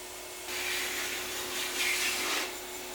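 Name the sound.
sander smoothing the edge of a wooden longboard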